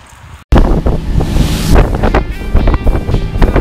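Strong 24-knot northeast wind buffets the microphone aboard a sailboat after a brief quiet moment, a loud, continuous roaring rumble with gusting swells and no one speaking.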